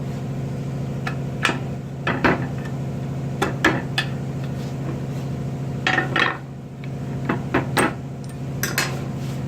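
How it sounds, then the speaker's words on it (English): A freeze plug being pried out of a Mazda RX-7/RX-8 rotary engine block during a rebuild: scattered sharp metallic clinks and scrapes of a tool against the plug, close and irregular over a steady low hum. "Now when it's there, you pry it out going this way right here."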